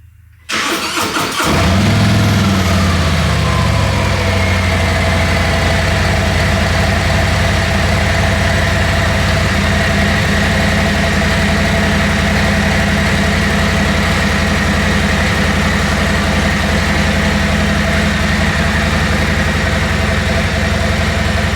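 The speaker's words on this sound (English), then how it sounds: "on the street with the new Road Glide, the 2025." A 2025 Harley-Davidson Road Glide motorcycle fires up on the street, then settles into a loud, steady, deep idle rumble that holds close and unbroken for about twenty seconds, with no voices.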